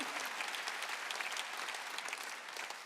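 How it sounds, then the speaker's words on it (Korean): A church congregation at Sunday worship claps steadily, a dense continuous wash of hands heard from a distance and fairly faint, with no break. "박수로 하나님께 영화하도록."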